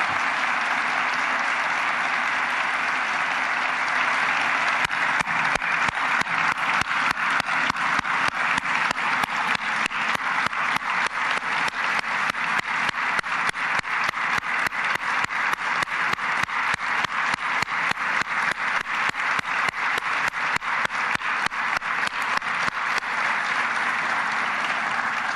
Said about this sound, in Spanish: Un aplauso a todos, por favor.